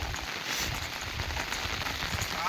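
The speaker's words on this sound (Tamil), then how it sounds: "மழை பயங்கரமா பெய்யுது." Heavy monsoon rain pours down in Valparai, a dense, continuous hiss of drops hitting surfaces, steady and fairly loud without speech.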